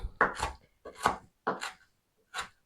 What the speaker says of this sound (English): all this parsley that I picked earlier, I'm starting to chop down